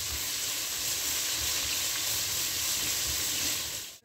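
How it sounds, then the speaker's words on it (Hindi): Finely chopped onions fry in hot oil until golden brown, giving a steady, loud sizzle and hiss with no voices over it. "इसमें प्याज ऐड कर देंगे, बारीक कटी हुई प्याज है ये, अच्छी तरह से गोल्डन ब्राउन कलर कर लेंगे"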